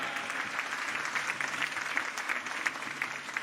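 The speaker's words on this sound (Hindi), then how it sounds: "तालियों की गड़गड़ाहट से शिवराज सिंह जी को हम धन्यवाद अर्पण करें।" A rally crowd in Sanwer, Indore District, breaks into applause of thanks for Shivraj Singh, a dense patter of many hands clapping at moderate distance, fairly quiet and continuous for a few seconds.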